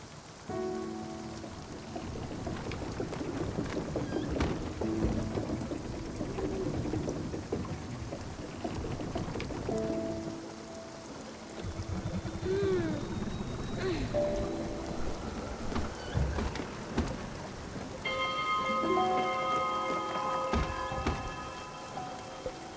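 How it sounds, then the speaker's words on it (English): Steady rain pattering through a thunderstorm in the video game Spiritfarer, a continuous close wash of drops with low rumbles, under soft game music tones and occasional talk. "right in the middle of a thunderstorm"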